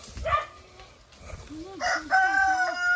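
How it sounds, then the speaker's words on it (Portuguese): Roosters crow loudly several times in succession, long rising calls overlapping near the listener, with some background farmyard noise. "Os galos pra fazer zoada, hein?"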